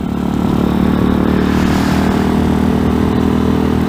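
A 2020 RPS Hawk 250 Enduro motorcycle rides down a road, its single engine droning steadily and loudly with a clattery mid-range buzz and no voices.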